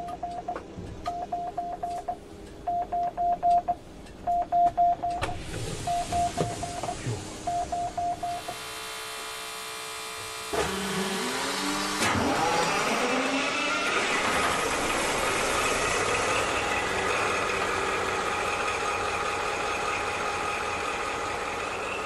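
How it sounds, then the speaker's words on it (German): An HLG EuroDual locomotive's 16-cylinder Caterpillar diesel starts up after a series of warning beeps, cranking and catching before settling into a loud, steady idle rumble that continues to the end. "16-Zylinder-Caterpillar-Motor läuft."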